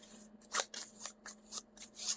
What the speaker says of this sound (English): And I will shuffle these up.